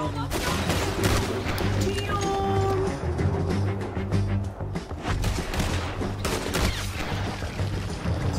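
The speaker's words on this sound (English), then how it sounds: "Once I'm off the bridge, I'll start shooting." Gunfire from a shootout in the video game Red Dead Redemption 2, with rapid overlapping shots cracking out continuously across a busy, loud mix.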